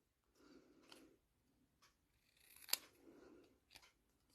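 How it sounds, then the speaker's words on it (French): Scissors snip through a paper label in a quiet craft session, several soft crunching cuts with one sharp, bright snip in the middle, close by and alone. "Donc là, je prends ma paire de ciseaux."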